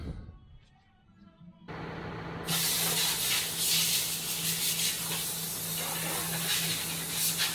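Compressed air blasts around a weeping wheel bearing seal on farm machinery. A quiet moment gives way to a loud, continuous hiss that stays strong to the end.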